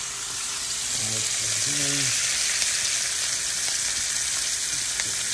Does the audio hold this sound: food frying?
yes